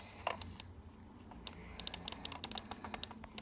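Computer keyboard and mouse clicking from someone trying to drag click, a quick irregular run of sharp, close clicks and taps that bunch together toward the end, over a faint background hum.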